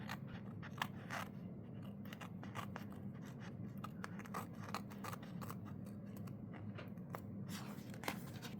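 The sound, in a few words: scissors cutting sticker paper for a journal spread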